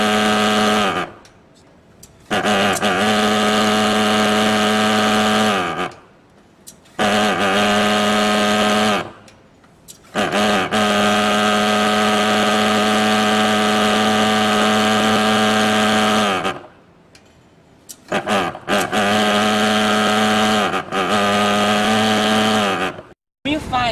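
A LONGRAYFOG Enrich Fogger 30 insecticide fogging machine runs with a loud, buzzing, harmonic engine drone. It cuts out several times in short gaps, then roars back.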